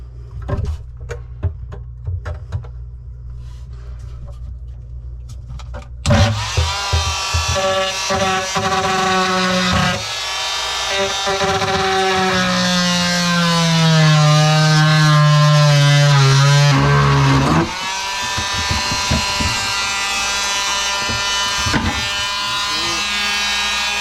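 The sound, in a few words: oscillating saw cutting through kitchen cabinet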